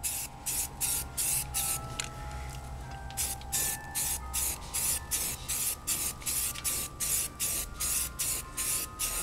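Spray gun laying a thin primer coat on a motorcycle wheel: loud, close, rhythmic hissing bursts in quick succession, with a brief pause near the start and then steady repeated sprays.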